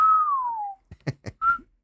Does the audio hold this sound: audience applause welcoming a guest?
no